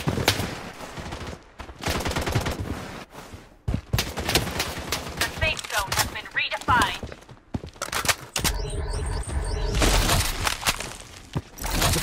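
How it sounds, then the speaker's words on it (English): Gunfire in the shooter video game Blood Strike: rapid automatic bursts and sharp shots crackle in repeated volleys with shattering impacts, loud and close, mixed with game voices and music. "Taking fire!"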